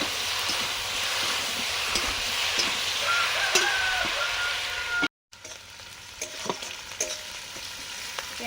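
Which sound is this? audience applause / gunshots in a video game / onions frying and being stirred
onions frying and being stirred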